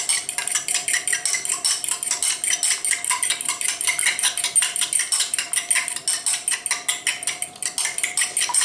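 A fork whisks eggs briskly in a bowl, a steady fast clatter of rapid metallic strokes throughout, close and continuous, with no talking.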